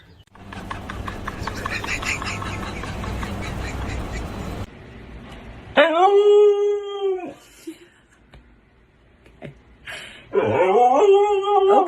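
A pet dog howls and yowls indoors in long, wavering, rising-and-falling cries, loud and close, after a stretch of noisy rumbling, with a second howl near the end and no talk over it.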